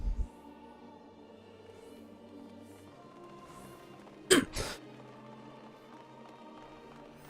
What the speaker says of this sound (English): That cough came out of nowhere.